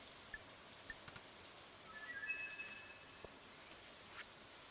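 Rain in the farming video game Stardew Valley, a steady soft patter with occasional louder drops and a brief faint whistle-like tone partway through, no voices.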